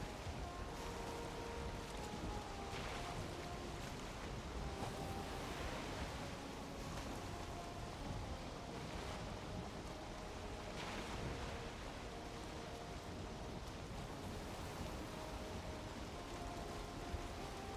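A boat sails across ocean waves in Valheim, giving a steady, quiet wash of water and wind that holds evenly throughout with no distinct events.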